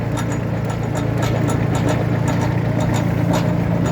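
Vehicle engine running with a driveshaft and coupling turning, a steady loud low rumble with fast rhythmic mechanical ticking over it, close and continuous with no talking.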